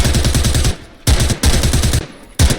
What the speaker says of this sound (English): There's a lot of gunfire going